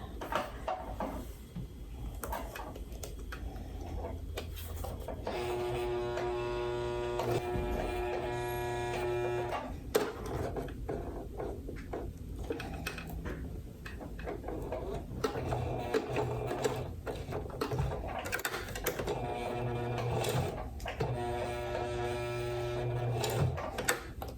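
A sewing machine stitches seams on a fabric pouch, its rapid mechanical chatter running in several bursts with short pauses and small clicks between, close and steady throughout.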